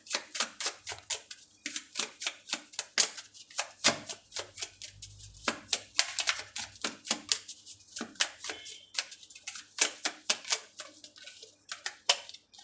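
Tarot cards are handled and shuffled for a reading, making a quick, irregular series of close, crisp flicks and soft slaps that continues throughout.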